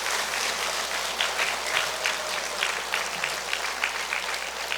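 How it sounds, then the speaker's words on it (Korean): A congregation at a church retreat applauds together, dense sustained clapping from many people filling the room, steady and fairly loud throughout. "주님께 감사와 찬미의 박수 올려드립시다."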